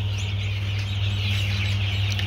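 Newly hatched desi chicks chirp in an incubator in a poultry farm shed, a steady busy mass of high peeps over a loud constant low machine hum.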